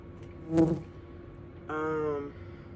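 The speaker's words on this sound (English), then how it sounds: "The bees are all up here because I use natural products, and the lavender and lemongrass essential oil really got them swarming up here." Bees drawn by lavender and lemongrass essential oil buzz close to the microphone, one brief loud pass followed by a steadier tonal hum lasting about half a second, over a faint low background.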